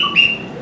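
A short, clear high-pitched bird whistle imitating a trinca-ferro, a single chirp-like note sounding close and alone.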